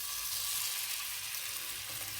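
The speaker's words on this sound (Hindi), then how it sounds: "फ्राई पैन में ऑयल गरम कर लेते हैं।" Vegetable pancake batter frying in hot oil in a pan, a steady, fairly quiet hiss of sizzling with no other sounds.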